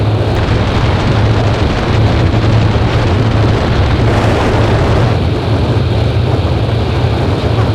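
Racing powerboat running just under full throttle, a loud continuous engine drone with heavy hull and water roar throughout, no voices heard.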